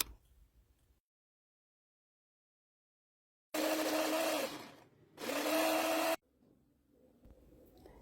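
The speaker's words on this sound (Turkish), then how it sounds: "Rondodan ince ince çekiyorum." A food processor finely grinds walnuts for a walnut pastry dough in two loud, steady bursts of motor whir, about one and a half and one second long, separated by a short pause and framed by near silence.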